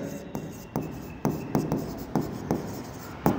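A teacher writes on a board during a lecture, making a series of sharp, evenly spaced strokes and taps close by over a quiet room.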